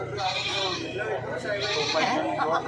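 A goat bleats at a goat sale in the Philippine countryside, its wavering cries mixed with ongoing background chatter and bustle.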